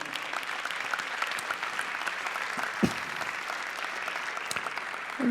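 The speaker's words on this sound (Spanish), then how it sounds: "Dele un aplauso al Señor." A church congregation claps steadily throughout, a sustained moderate wave of applause filling the room with a few louder thumps.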